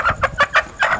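A live hen clucks in short bursts while being handled, about five quick, close calls in a second with no talk over them.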